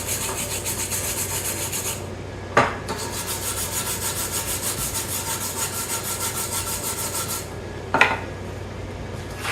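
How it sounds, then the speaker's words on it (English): A rough stick weld scrubbed clean before grinding, a steady rhythmic rasping stroke repeated quickly and evenly, close and moderately loud, broken by two sharp knocks. "before I do the grinding, I'll go ahead and just clean it off and let you see"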